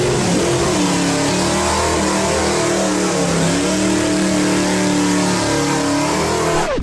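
A 9.3-liter American car engine with drum brakes revs hard, a loud, close, rough roar with rising and falling pitch that fills the whole stretch and cuts off at the end.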